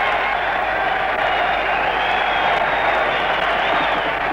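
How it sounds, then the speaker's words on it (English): A large boxing crowd at the 1919 Dempsey vs Willard heavyweight fight roars and cheers in a dense, continuous wash of noise with scattered clapping. "The crowd surges to its feet."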